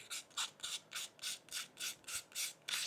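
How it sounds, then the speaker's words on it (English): Light sanding and scoring of an IWB holster surface to roughen it, heard as about ten rhythmic back-and-forth rasping strokes, close up and steady, with no talking. "I've got roughly the area now where I want to sand"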